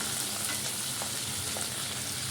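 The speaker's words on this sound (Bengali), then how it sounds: "অনেকদিন পর বাঁধাকপি রান্না করছি" Cabbage, capsicum, tomato, green peas and a little chicken fry in a wok with a steady, dense sizzle and crackle that runs without a break, close to the mic and with no voices.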